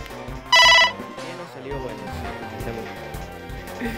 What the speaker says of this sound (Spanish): literalmente olvidé silenciar las notificaciones